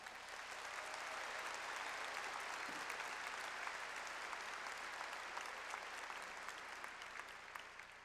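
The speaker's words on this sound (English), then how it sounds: "they deserve nothing but a raucous round of applause from you" Sustained, dense applause from a large crowd at a university fall commencement ceremony, a steady even wash of clapping that holds at full strength for several seconds, heard from a distance across the hall.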